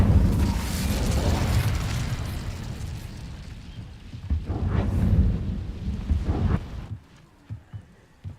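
Incendio fire spell cast in Hogwarts Legacy, a loud roaring burst of flame with rumbling low end that swells, peaks, then breaks into a few crackling pops before fading to quieter scattered bursts.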